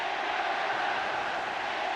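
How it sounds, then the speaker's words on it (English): Dense, steady roar of a large football stadium crowd at an England versus Italia international match in 1973, a continuous wash of massed voices swelling as a constant, fairly distant din with no single voice standing out. "An incident which has brought the crowd to life."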